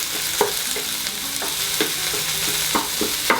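Impossible beef frying in an Instant Pot, broken up with a spoon: a loud steady sizzle with repeated scraping and tapping of the spoon against the pot, close by, no voices.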